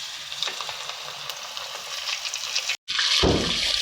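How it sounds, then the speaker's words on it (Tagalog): Flour-coated chicken pieces frying in hot oil, a continuous close sizzle and crackle with a brief cut and a louder burst of spitting as more pieces go in, no talk. "Fry tayo ng chicken joy."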